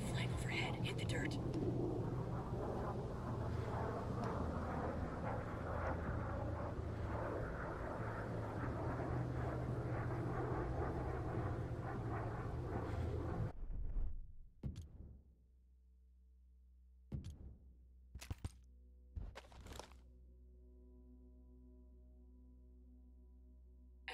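An enemy drone passes overhead in the video game Ghost Recon Breakpoint, a steady droning buzz holding for about fourteen seconds before cutting out, followed by a few sharp clicks and faint ambient tone.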